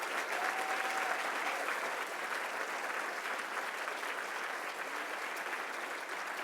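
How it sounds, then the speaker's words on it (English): An audience at a public service awards ceremony applauds steadily, a warm sustained round of clapping at moderate distance. "I would like all of us to give them a warm round of applause as well."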